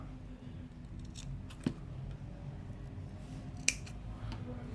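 Scissors snipping fly-tying thread close against the hook ring, two small sharp clicks about two seconds apart over a quiet room hum, near and faint.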